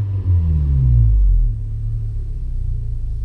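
A Honda K24Z7 engine fitted with a 3-inch CNT downpipe revs once with a deep exhaust rumble that rises, then falls back to a low, steady idle burble.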